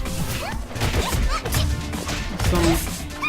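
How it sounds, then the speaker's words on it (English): Icy shattering smashes and thwacking hits from a fighting video game tournament match, repeated crashing bursts with quick whooshes over dense game audio and music. "Some ice shatters."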